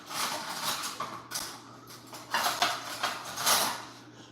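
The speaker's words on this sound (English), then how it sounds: "Let me grab a fork." A fork is picked out from among other cutlery in a kitchen where steak is being cooked in a cast-iron pan, giving a series of light metallic clinks and rattles, close and uneven, with no one talking.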